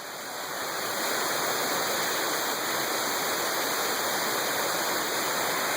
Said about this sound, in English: it's almost like Zoe followed the trail down to the waterfall.